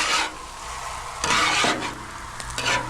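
Scrambled eggs frying on a Blackstone griddle give a steady, close sizzle, with stirring and scraping sounds that swell in short bursts partway through.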